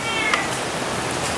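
A mother cat gives a short, plaintive meow from nearby over a steady hiss of background noise.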